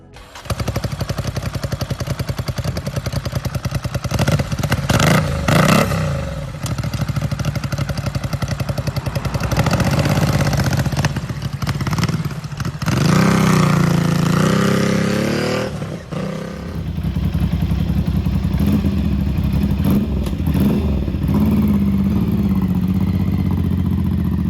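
Ducati Scrambler built as a cafe racer, fitted with new exhaust pipes and independent mufflers, idling and revving up close with loud rising and falling throttle blips and mechanical clatter throughout.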